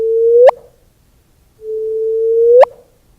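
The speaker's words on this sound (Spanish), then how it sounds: "se pudo grabar el sonido de estas ondas gravitacionales" A recorded gravitational wave signal converted to sound plays as two rising chirps, each a steady tone that sweeps sharply upward at the end, separated by a second of silence, loud and clean.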